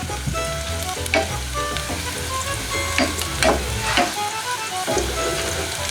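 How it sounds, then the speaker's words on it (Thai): Steady close sizzling of garlic frying in hot oil in a pan, with occasional scraping stirs and crackles throughout. "ตั้งกระทะ เคี่ยวหอมกระเทียมก่อนนะคะ ให้มีกลิ่นหอมมากขึ้น"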